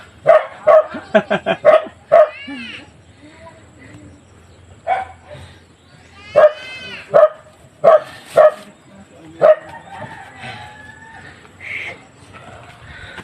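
Dogs bark in a quick flurry, then in several spaced single barks, with softer yips and a voice in the background between them, on a mountain path.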